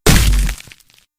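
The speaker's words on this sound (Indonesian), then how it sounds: "Dia memanjat bagian depan mobil dan melompat, menghantamkan botol kaca tepat di ubun-ubun Udagawa." A glass bottle smashes against a person's head, one loud, close crash that rings out for about half a second, then scattered tinkling fragments trail off into silence.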